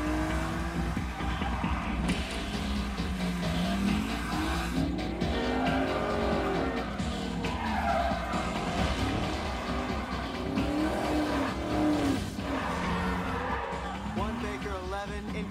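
Gray 1967 Ford Mustang in a street car chase, engines roaring continuously with repeated tire squeals and skids sweeping up and down, loud and close, with a voice speaking over parts of it.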